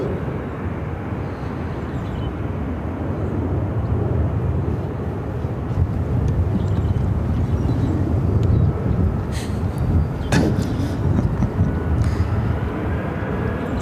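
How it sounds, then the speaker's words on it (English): An American Airlines Airbus A321-200 airliner arrives at Phoenix airport on runway 25, its broad engine roar and rushing air steady and fairly loud throughout, swelling slightly midway, with no talking. "This is American Airlines 336 coming in from Dallas on an A321-200."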